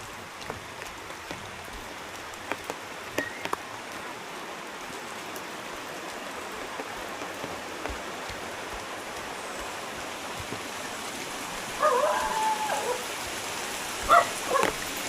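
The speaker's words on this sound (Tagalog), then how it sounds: "Ang lakas ng ulan." Heavy rain falls steadily in Kasiguran, a dense constant hiss with scattered drips and splashes, and a few brief faint sounds rising over it toward the end.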